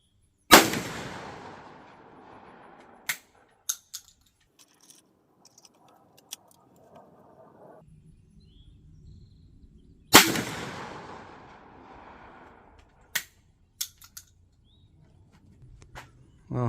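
.410 shotgun firing custom-handloaded slugs at an outdoor range: two sharp, loud gunshots about ten seconds apart, each with a ringing decay, plus small clicks and knocks between them.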